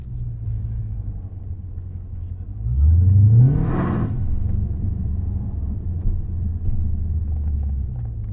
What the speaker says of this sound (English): Hurry up, this car's coming